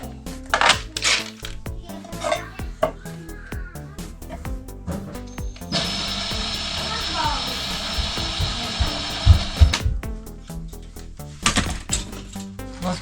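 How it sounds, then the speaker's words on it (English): A power drill runs for several seconds on a diesel heater install in a boat, a sustained whine in the middle framed by clicks, clatter and handling noises, with brief voices around it. "Drill."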